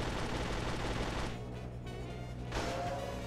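Gunfire in the video game James Bond 007: Agent Under Fire, a dense, loud barrage of shots that drops off briefly in the middle and then flares up again, with no talking.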